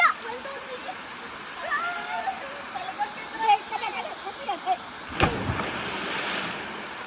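Cabugsayan Falls waterfall in Siquijor, a steady rushing wash of falling water heard throughout, with voices chatting and calling over it and a brief splash near the end.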